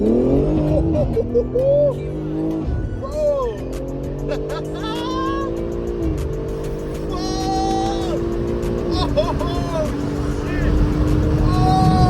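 BMW G82 M4 Competition in stock form accelerating hard from the passenger seat, engine climbing through loud rising pulls with several gear shifts over about twelve seconds, with excited talk over it.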